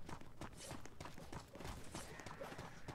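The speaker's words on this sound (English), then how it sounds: "I hear the horses coming." Horses gallop in the Blood and Iron video game on the Valenti map, a dense stream of rapid clip-clop hoofbeats mixed with battle noise and faint talk.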